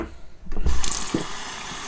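Water runs from a tap into a sink while someone washes their face, a close, loud gush that starts after a short quiet pause and keeps flowing steadily.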